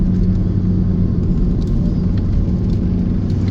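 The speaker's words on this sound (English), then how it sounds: "We got a WRX STI behind me. He's having fun." Steady low engine rumble and road noise from a Subaru WRX STI driving close behind, heard from inside a car on a Sunday drive toward Bennington, New Hampshire, constant and fairly loud throughout, with no talking.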